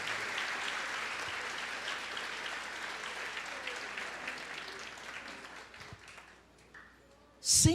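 A church congregation at a Portuguese-language service claps in praise. Sustained, dense applause from many hands gradually fades over several seconds before a brief loud burst at the end.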